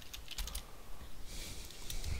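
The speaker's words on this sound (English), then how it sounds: "And I'll just simply type in" Typing on a computer keyboard in Word, a quiet run of close key clicks in quick irregular bursts, then a softer patter with a faint hiss.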